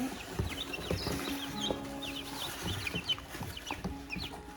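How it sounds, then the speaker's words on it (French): Chicks peep in rapid high chirps while hens cluck lower and intermittently, a busy close-up barnyard chorus with steady overlapping calls throughout. "Donc ici on a 10 poussins je crois."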